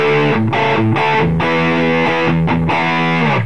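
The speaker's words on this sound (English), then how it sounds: "the rat pedal for a bit of distortion" Electric guitar through a Rat distortion pedal rings out continuously in gritty, saturated chords, with a few chord changes and no voices.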